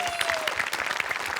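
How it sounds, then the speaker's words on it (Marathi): Studio audience applause on a Marathi comedy sketch show, a dense, steady patter of many hands clapping at moderate loudness through the whole brief moment, with a faint voice mixed in. "तुझ्या प्रामाणिकपणासाठी आणि सचिन मोठेसाठी दोन्हीसाठी टाळ्या."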